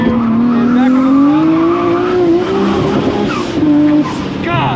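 A Nissan Skyline GT-R corners hard on a race track, its engine note climbing steadily while the tires squeal and scrub throughout, loud and close.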